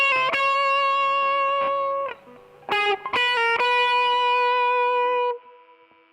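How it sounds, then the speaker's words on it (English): Distorted electric guitar plays a second guitar part, a few sustained notes and quick picked phrases with pauses between them, close and clean of other sounds and voices. "So the second guitar in total sounds like this."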